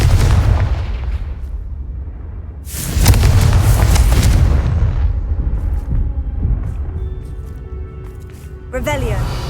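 Blasting Confringo spell explosions in the Hogwarts Legacy video game, a loud sustained burst of booming impacts mid-clip, with shouted spell voices and game effects around it.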